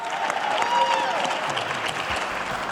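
Audience applause for Dallas Cowboys co-owner Stephen Jones, a steady wash of clapping from a crowd that holds at an even level throughout, with a faint voice drifting underneath.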